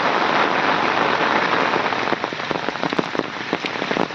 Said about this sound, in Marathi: पाऊस जोरात येऊ लागलो पाणी पण भरपूर